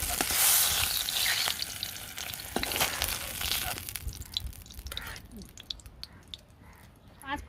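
Vegetables fry in hot oil in a pan, sizzling and crackling loudly up close with occasional stirring clinks, the sizzle easing toward the end while someone talks over it.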